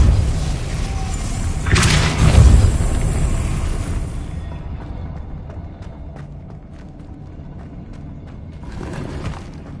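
A Depulso spell cast in the video game Hogwarts Legacy lands as one loud, booming whoosh with a thud. It fades into a quieter rumbling game ambience with faint scattered knocks and a second softer surge near the end.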